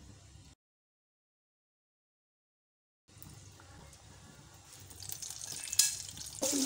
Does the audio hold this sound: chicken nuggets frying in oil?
yes